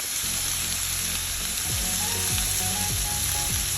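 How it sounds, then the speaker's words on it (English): Vegetables hit hot oil in a sauté pan, a steady broadband sizzle that stays loud and constant throughout, with faint clicking and stirring scrapes underneath. "I'm about to add the vegetable on the oil."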